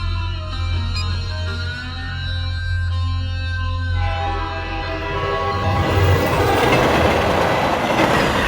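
A passenger train rolls along the rails with a steady loud rumble and rhythmic clatter of wheels. A sustained metallic tone fades out partway through, and the rushing noise swells toward the end.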